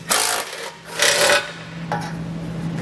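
Socket ratchet loosening and pulling 14 mm hitch bolts on a 2022 Subaru Forester during a Curt trailer hitch install: close, loud rasping bursts of ratcheting, three separate pulls with short pauses over a steady low hum.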